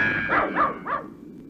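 A dog barks three times in quick succession in a scene from an old nature-attack movie, the barks loud and close, followed by a short fading tail.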